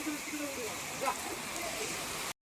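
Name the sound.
rain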